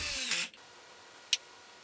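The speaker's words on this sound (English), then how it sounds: "I could have used a screwdriver for these wood screws, but I used a right-angle drill attachment instead." A power drill with a right-angle attachment whirs in a short half-second burst driving a wood screw, then stops, followed by a single sharp click.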